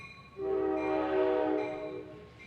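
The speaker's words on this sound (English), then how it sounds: "let this train go by" A train passes nearby and sounds a long, loud horn that swells and holds for about two seconds, then fades, with a low rumble underneath.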